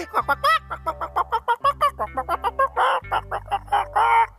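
A cartoon character's voice imitates a hen, giving a rapid series of short, nasal clucks in three bursts over a low steady hum, with a few longer squawking notes near the end.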